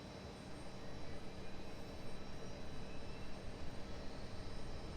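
Embraer E-175 airliner jet engine spooling up in the X-Plane 10 flight simulator, a steady broadband roar with a faint high whine, even and continuous throughout with no talking.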